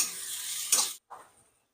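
Onion with turmeric, salt and other ingredients sautéing in a pan on a full gas flame, a close hissing sizzle with scraping stirs, then a sudden cut, a short burst and quiet.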